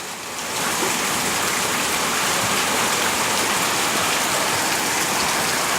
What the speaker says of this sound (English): it is raining a lot